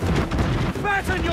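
Ship cannons in an Assassin's Creed Black Flag naval battle against El Impoluto fire in a heavy, booming volley that fills the moment, loud and close, with a shouted command overlapping.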